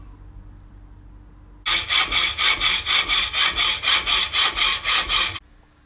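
A metal part cut by hand saw for a BMW R80 custom motorcycle build, with about fourteen loud, even back-and-forth strokes in a steady rhythm, close up, starting and stopping abruptly with quiet around it.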